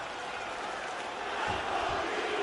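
An arena crowd in the UFC 3 fighting game chants a fighter's name, a broad roaring wall of voices that swells louder midway through, with a commentator talking over it.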